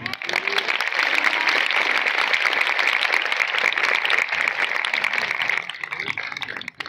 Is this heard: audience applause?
yes